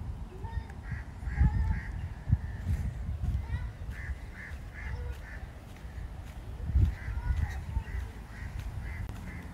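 Geese honk repeatedly at a moderate distance, with bursts of calls spaced through the clip over low rumbling background noise.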